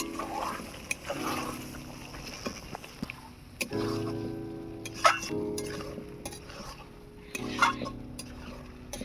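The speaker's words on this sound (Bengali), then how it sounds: "আলু আর এঁচড়টাকে ভালো করে কষিয়ে নেব।" Fried potatoes and young jackfruit are stirred through spiced masala in a pan, giving repeated scraping and clanking strokes of a spatula against metal over a soft sizzle, close up, with a voice briefly in the background.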